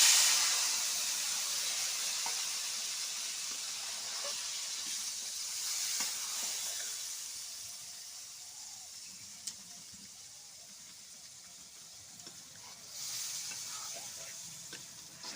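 Potatoes lightly frying in a pan for a village-style desi chicken curry, a soft steady sizzle and hiss with faint stirring, moderately quiet throughout with no talk.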